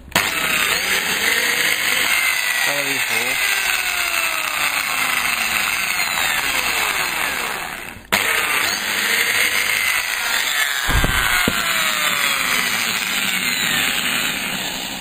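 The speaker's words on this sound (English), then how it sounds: "get your drill right in the centre of your wee groove" A power drill bores holes in wood for drawer runners on under-bed storage drawers, a steady loud whine running almost throughout with a brief break midway, one short spoken phrase near the start.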